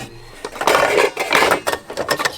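Cooking pots and pans clatter in a van's compact kitchen, with a run of loud, close metallic clanks and scrapes as they are moved and stacked, and no talking.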